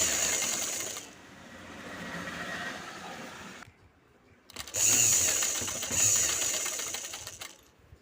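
A sewing machine stitches around the hem of a straight pant in two steady mechanical bursts, with a brief quiet pause between them and no talking.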